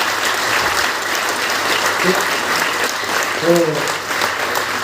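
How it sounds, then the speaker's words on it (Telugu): Sustained applause from an audience at a talk honoring women, a steady dense patter of many hands, with a man's brief words heard over it. "మీరు క్లాప్స్ కొడుతున్నారు"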